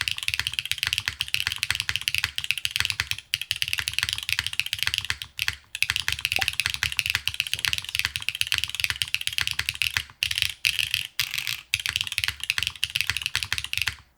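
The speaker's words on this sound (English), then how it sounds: "It is extremely loud with these switches." Continuous, loud, fast typing on a Keycult 60% keyboard with an aluminum plate and GMK keycaps, dense clacky keystrokes with a few brief pauses and no talking.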